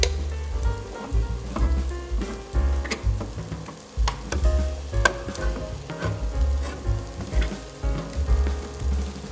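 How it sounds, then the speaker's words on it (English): Vegetables and tomato paste sauté in a pot for minestrone, giving a steady loud sizzle with frequent crackles and pops, close up, with no talking. "We'll let this saute just for a minute or two to give that tomato paste an opportunity to caramelize and coat the rest of the vegetables."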